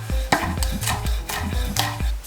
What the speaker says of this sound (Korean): 굵직하게 충분한 양을 썰어주세요.